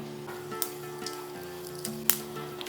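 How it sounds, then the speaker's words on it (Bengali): Whole cumin, mustard and fennel seeds sizzle in hot ghee, a steady close crackle with a few sharp pops and clinks over a low continuous hum. "এরপর দিয়ে দিচ্ছি সামান্য একটু গোটা জিরে, দিচ্ছি গোটা সর্ষে, দিচ্ছি সামান্য একটু গোটা মৌরি।"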